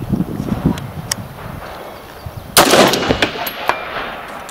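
A rifle topped with a US Optics SR-4C 1-4x red dot fires outdoors, giving a couple of sharp cracks, with one loud report standing out above wind-like background noise; nobody speaks.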